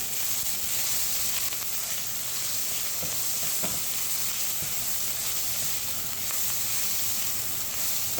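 Onions sizzle steadily in a pan over high heat, a dense continuous frying hiss with a couple of faint stirring scrapes partway through, close and even throughout with no talking.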